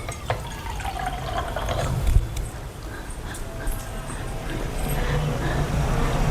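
A small amount of water is poured into a pan of chicken curry, giving a soft steady splashing and trickling that runs for several seconds under faint kitchen noise.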